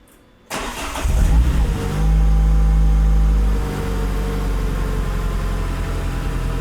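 Renault Clio Trophy engine cranks and fires inside a garage, settling into a loud, steady idle with a brief rev hold before easing back to a lower, rumbling idle.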